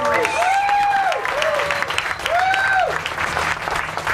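Loud, dense applause from a large audience at a concert fills the space, with a voice ringing out over the clapping.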